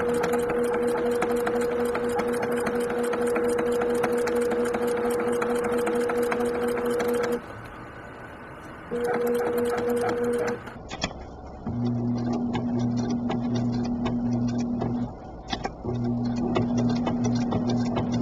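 A sewing machine stitching the seam of a fitted fabric face mask, running in long steady whirring bursts with brief pauses between them, close and alone.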